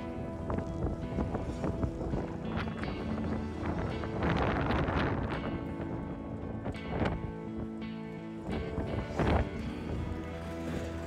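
Gusty wind buffets the microphone at a chilly outdoor race in Karmøy, a steady low roar with rising surges and bursts of rumble, and no voices.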